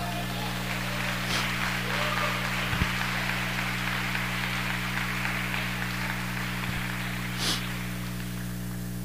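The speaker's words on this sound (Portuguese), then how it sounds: "aplaude ao Senhor" A church congregation applauds in a soft, continuous patter of clapping under a steady electrical hum, with a couple of brief louder knocks.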